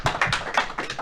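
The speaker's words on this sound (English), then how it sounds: "Golf clap." A short golf clap at a bass fishing tournament announcement: a handful of light, sparse hand claps from a few people, quick and soft, with no talking over them.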